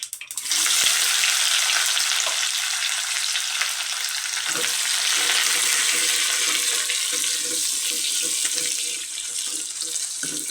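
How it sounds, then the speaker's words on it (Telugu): Finely sliced onions and split green chillies frying in a pan of tempered oil, a loud continuous hiss and crackle that stays steady throughout and eases slightly at the end. "లైట్ గోల్డెన్ కలర్ వచ్చే వరకు ఫ్రై చేయాలి"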